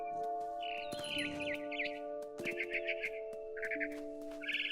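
A bird chirps in repeated short, bright bursts from the video game What Remains of Edith Finch, set up in a big tree, over a quiet ambient background with a few sharp clicks.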